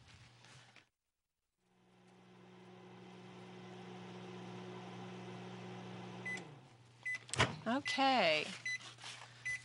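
A microwave oven hums steadily for several seconds, warming a cereal bar mixture until it melts, then stops with a click, followed by a short run of loud, close beeps as someone speaks briefly around it.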